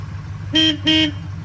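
The horn of a 1968 Plymouth Road Runner with a 383 Magnum V8 honks twice in quick succession, each blast short and loud over the steady idle of the engine.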